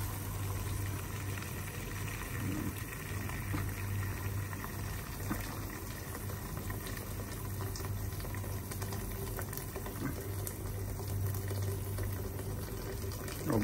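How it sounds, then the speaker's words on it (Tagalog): Water comes to a boil in a pot for cooking pancit bihon, a steady close bubbling and hissing rumble that continues evenly throughout without talk. "Natin kumulo yung tubig,"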